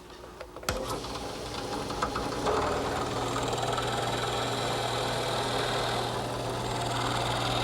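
A drill press bores a compound-angled hole in wood for a rocking chair, with the table tipped 5 degrees over an 8-degree wedge. The motor clicks on and settles into a steady hum, then a denser cutting noise rises and holds without a break.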